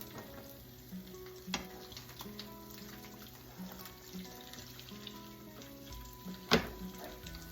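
Eggs frying in a pan give a soft, continuous sizzle close by, with intermittent clinks and scrapes of a utensil and one sharp clatter near the end.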